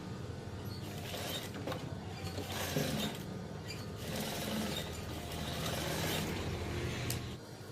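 A sewing machine runs slowly and steadily, stitching curtain fabric, with a continuous mechanical whir and faint creaking from the mechanism, close and moderately loud throughout with no talking.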